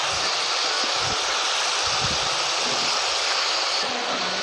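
Drumstick and potato pieces fry in hot oil for a mustard curry, a dense, steady sizzle that stays loud and unbroken from start to finish, with no talking over it.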